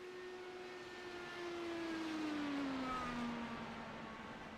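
IndyCars in iRacing at Michigan roar past in a high, sliding engine whine that swells to a peak mid-clip and then fades, with a steady hum underneath and no voices.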